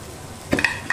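Spice paste of ground mustard, coriander, cumin, turmeric, salt and green and dry chilli cooking in a pan for a brinjal dish, with a soft sizzle and a few brief scraping stirs near the end.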